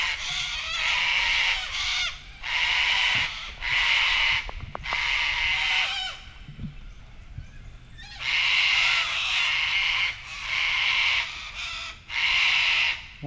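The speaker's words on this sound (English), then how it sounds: "The noisy cockatoos." Cockatoos call noisily from a tree in a state forest. They give harsh, raucous squawks in repeated loud bursts separated by short pauses.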